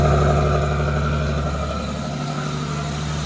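A 2005 Ford Mustang with a 4.0 engine runs steadily at idle with gutted catalytic converters and a slight exhaust leak, producing a close, continuous low rumble with a throbbing pulse and no talk.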